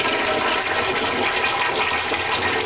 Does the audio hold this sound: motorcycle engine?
no